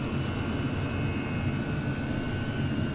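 A Chinese diesel oil heater running at full power through a five-metre exhaust pipe gives a steady, loud, unbroken roaring hum with no change in pitch.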